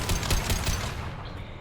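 Rapid bursts of upgraded weapon fire in Mass Effect Legendary Edition: a fast run of punchy, close shots over about a second, then a fading tail, with no talking.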